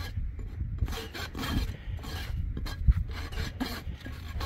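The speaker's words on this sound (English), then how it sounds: "Time for the rasp." A rasp files an overgrown miniature horse hoof in steady back-and-forth strokes, a dense close-up scraping that continues without pause.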